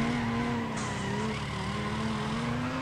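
A car in Need for Speed ProStreet with one wheel peeling, its tire squealing and skidding steadily over a loud, droning race engine for a few seconds.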